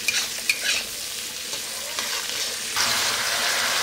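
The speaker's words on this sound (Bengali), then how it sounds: "পেঁয়াজটা আমি দিয়ে দিয়েছি, এবার ভেজে নেব এটাকে ভালো করে।" Onion frying and being stirred in a pan while cooking spicy mutton curry, a steady close sizzle with a few scraping stirs early on and a louder burst of frying near the end, no talking.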